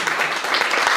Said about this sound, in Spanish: Sí, aplausos.